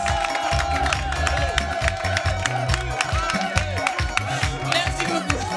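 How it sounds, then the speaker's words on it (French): An audience claps and cheers for the Jérusalem choir from the Riviera, a loud, dense mix of applause and shouts with heavy low rumble and bursts of noise, as though near the microphone in a busy hall. "Est-ce qu'on peut également l'applaudir?"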